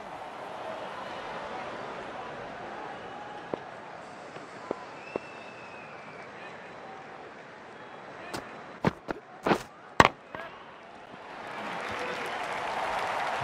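Crowd applause in the cricket video game Don Bradman Cricket 14 during a T20 match, a low steady stadium murmur with a few sharp cracks and bursts, then swelling into broad cheering and clapping toward the end.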